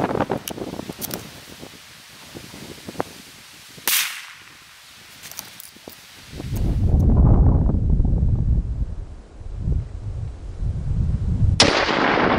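A 22-250 rifle loaded with Sierra 55g bullets and Varget powder fires one sharp, loud test shot outdoors. Wind gusts and rustling fill the background before and after the crack.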